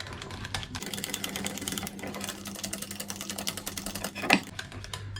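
Small whisk beating keto orange cake batter in a bowl, a fast continuous run of faint clicking, tapping strokes with one sharper knock near the end.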